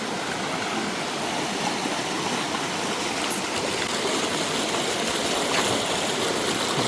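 A river stream runs steadily near Polgampola falls in Sri Lanka, its broad continuous rushing of water close and even throughout, with no voices.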